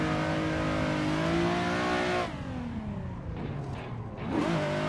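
A race car engine revs hard while drifting around an open karting layout in Assetto Corsa, a loud sustained whine that sits steady, then drops and wavers before surging again.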